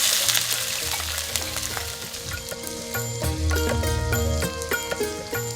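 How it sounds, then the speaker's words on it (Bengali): Potatoes fry in hot oil with bay leaf, cardamom and cloves in a home kitchen, making a steady, close sizzle that runs throughout with light clinks of a pan. "আলুগুলো প্রথমে একটু করে ফ্রাই করে নেব"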